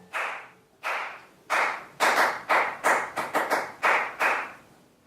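Hands clap back a short duple-time rhythm in an aural training exercise: about a dozen crisp, close claps in an uneven pattern, alone with no talking.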